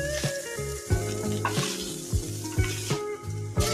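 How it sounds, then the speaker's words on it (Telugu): Sliced onion and tamarind frying in hot oil for a Telugu ivy gourd onion masala, giving a steady loud sizzle broken by regular scraping knocks of a spoon stirring against the pan. "ఈ విధంగా వేగిన తర్వాత ఇవి తీసేసుకొని ఉల్లిపాయ, చింతపండు వేపుకుందాం"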